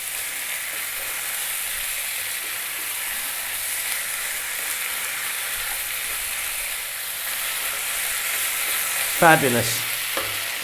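Vegetables sizzling and being stirred in a hot pan on high heat for a vegetable biryani, a steady loud fry hiss with a brief scrape near the end and a single spoken word.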